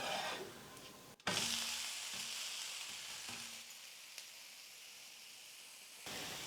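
Dosa batter frying on a hot pan right after being flipped, a steady close broadband sizzle that holds for several seconds, broken by a brief knock of the spatula near the start.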